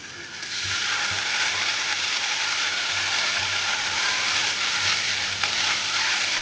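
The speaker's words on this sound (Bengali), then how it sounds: "এটা আমি পেঁয়াজ বাটা টমেটো বাটাটাও একসাথে ভালো করে নাড়তে থাকবো" Onion paste and tomato paste fry in a hot pan with a steady, loud sizzle, broken by occasional soft scrapes and knocks of stirring, with no voices.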